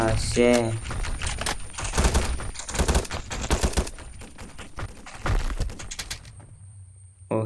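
Rapid bursts of gunfire from a gun in a Roblox shooter game crackle in dense, uneven volleys with short gaps, loud and close, while a player talks intermittently over them.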